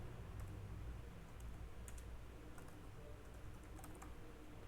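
Steady keyboard typing as a SQL Server user ID and password are entered, quiet rapid key clicks in an even run, close and faint with no talk.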